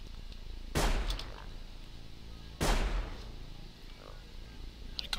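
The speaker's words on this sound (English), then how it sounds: "The guy's still shooting at something." Gunfire in the stealth video game Sir, You Are Being Hunted: two distant, booming shots a couple of seconds apart, each with a rumbling tail, set against a steady low ambient background.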